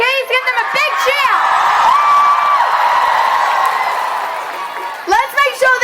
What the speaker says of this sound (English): Can we please give them a big cheer?